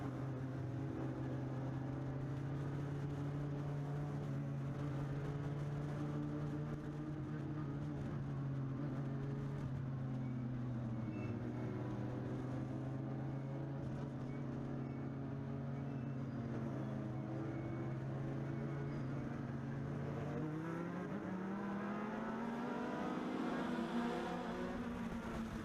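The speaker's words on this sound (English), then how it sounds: "So here we go into the heat race." Legends race cars run a heat race at Meridian Speedway. Their engines drone steadily and loudly throughout, with pitch shifting as the cars rise and fall through the revs and several engines layer into a continuous roar.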